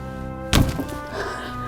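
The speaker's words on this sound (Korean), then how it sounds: "그렇게 시신을 향한 펀치 합주가 시작되고 마는데" One dull, heavy punch lands on a corpse in a film scene. The single thud is close and short, set against steady background music.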